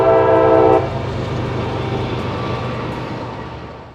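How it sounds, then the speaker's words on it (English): A train rumbles past close by, its horn sounding loudly for the first moment before the steady rolling roar of the cars continues. "now that the train has passed"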